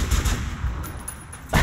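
Gunfire in Metro Last Light: a loud shot at the start and another sharp crack near the end, with a dense, echoing rumble between them and no talking.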